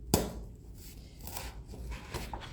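A single sharp punch into stiff paper marks a notch in a skirt sewing pattern, a crisp close snap followed by soft rustling and handling noise.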